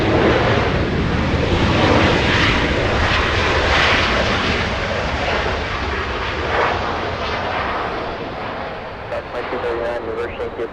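American Airlines airliner departing LAX runway 25 right for London, a loud sustained jet engine roar that slowly fades, with wind buffeting the microphone.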